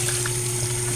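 Tap water runs steadily into a sink during dishwashing practice at home, a close, continuous rushing splash with a faint pump-like hum beneath it, no voices.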